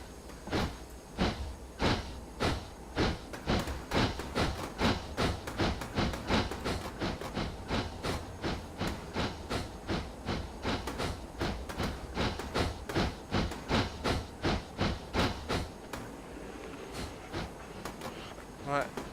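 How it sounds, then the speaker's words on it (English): A narrow gauge gravity train on a North Wales railway rolls past close by, its wheels beating a steady rapid clatter over rail joints for most of the stretch before easing off near the end. "Is that the gravity train coming down? It is."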